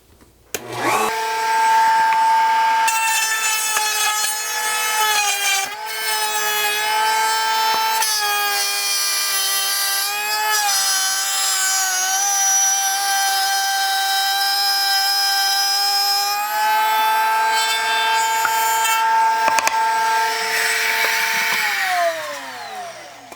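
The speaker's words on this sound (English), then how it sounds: "so now we're going to plunge cut this board again" A router plunge-cutting all the way through a board with a 5/16 inch bit, a loud steady high whine that spins up, holds and shifts pitch as it cuts for about twenty seconds, then winds down.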